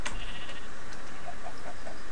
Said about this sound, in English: there's a lot of sheep around me, Brennan.